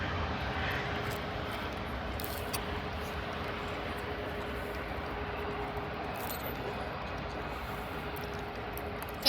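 A steady, broad jet roar comes from an airliner in special livery landing at an airport, with the engines rumbling constantly at a moderate distance throughout and no one speaking.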